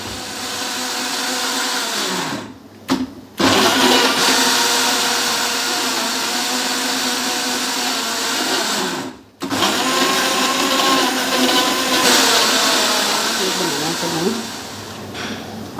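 An electric blender grinds sliced papaya in a loud, continuous whir that pauses briefly twice and then restarts, with the pitch wavering as the fruit breaks down.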